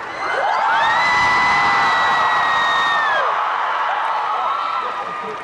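Large convention panel audience at an anime expo screaming and cheering loudly in a sustained, dense roar, with high shrieks and whoops rising over the crowd for several seconds before easing slightly.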